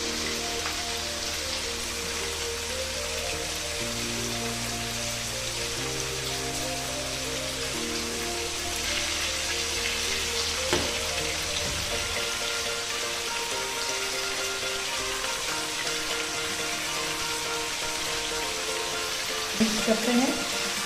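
Chicken with garlic paste, salt and chili sizzling in a pan for achaar chicken masala, a steady hiss of frying that runs throughout, with faint background tones and a small clink near the end.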